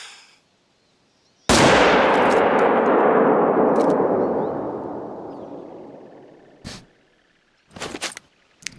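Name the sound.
rifle shot at a moose in the video game The Hunter: Call of the Wild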